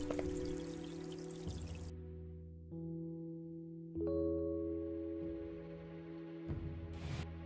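Water running from a drinking fountain in Yandere Simulator as blood is washed off a weapon, a steady pouring hiss under a sustained tonal game music drone, starting loud, dropping away, then returning in stretches.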